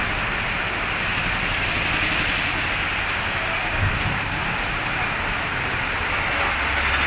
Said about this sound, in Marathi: बघा मित्रांनो मस्तच मोठा पाऊस पडतोय